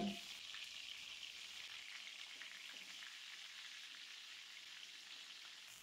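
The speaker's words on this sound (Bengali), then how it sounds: "তেলটা গরম হয়ে গেলে একে একে বেগুনগুলোকে আমি তেলের মধ্যে দিয়ে দিলাম" Eggplant pieces fry in hot white oil in a wok, giving a steady, soft bubbling sizzle that runs on evenly throughout with no voices.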